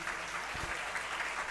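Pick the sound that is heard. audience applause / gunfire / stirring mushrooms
audience applause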